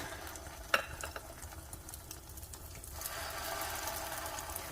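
Tuna potato patties shallow fry in a little oil in a pan, giving a faint, soft sizzle with a few scattered pops and one sharp clack near the start.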